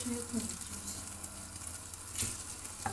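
Quiet sizzling of tomato paste with cumin, black pepper and chili flakes frying in a pan for spinach börek filling, a soft steady hiss with faint stirring and a brief louder burst, while people talk lightly.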